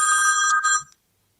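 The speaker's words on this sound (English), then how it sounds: "Warn Andy about having that phone on where you're having a conversation" A telephone rings loudly and steadily during a midday business radio talk show, a bright continuous ring that cuts off abruptly after about a second, followed by silence.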